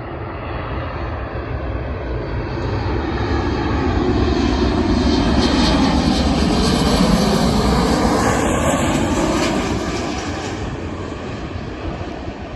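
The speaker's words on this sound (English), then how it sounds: "This is the Jet 2 from Alicante that is arriving right now." A Jet2 Boeing 737-800 arriving from Alicante at Leeds Bradford airport roars past as one continuous loud jet rumble that swells toward the middle and slowly fades.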